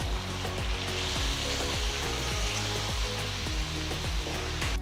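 Eight chopped medium tomatoes sizzle in a hot kadai as they are stirred, a steady close hiss of frying broken by regular low scraping strokes about twice a second, fairly quiet overall and without talk.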